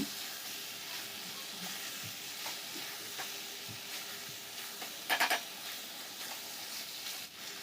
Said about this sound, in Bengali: ভেজে রাখা আলুগুলো দিয়ে মাংসটাকে আর একটুখানি কষিয়ে নেব